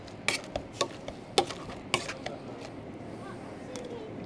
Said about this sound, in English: And then mash the potato.